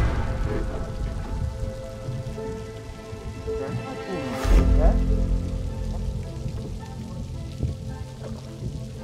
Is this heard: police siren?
no